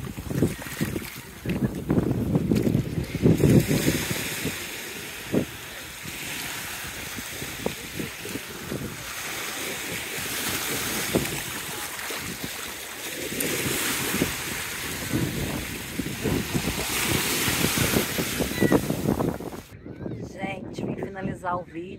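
Sea waves breaking on a beach at Lagos in the Algarve, with repeated surges of surf and wind buffeting the microphone, loud and close, swelling and easing over several wave cycles before cutting off near the end.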